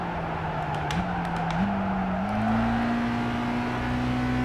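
A race car under hard braking in Gran Turismo 5, with a steady engine drone whose pitch steps down and then climbs, while a rough tire scrub carries loudly throughout.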